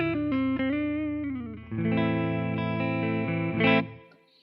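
Clean electric guitar tone through a Quad Cortex with reverb: sustained picked notes and chords ringing out, a louder strum near the end, then a smooth reverb tail fading away.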